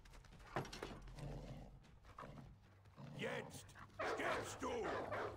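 In the video game For Honor, dogs bark in short yips and woofs from a little way off, mixed with clip-clop hoofbeats and game noise while a player talks over them.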